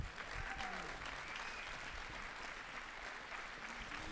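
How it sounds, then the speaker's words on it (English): A crowd gives a round of applause at a KLEINTalks 2019 community talk event. The clapping is continuous, even and faint, as if heard from some distance. "let's give them another big round of applause"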